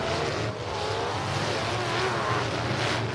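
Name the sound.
race car accelerating on track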